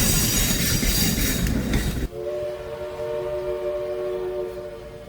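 Southern Railway steam locomotive 4501, freshly painted green, rumbles across a 200-foot Pratt truss bridge in Tryon; loud broadband rolling roar cuts off abruptly, leaving a sustained steady whistle tone over a lower continuous rumble.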